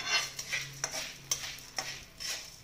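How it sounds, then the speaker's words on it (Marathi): Black pepper and small spices shallow-frying in a little oil, heard as a quiet sizzle broken by several sharp stirring scrapes and taps at an uneven pace, close by with no voices. "थोडस तेलात टाकून शॅलो फ्राय सारखं करून घेतलंय"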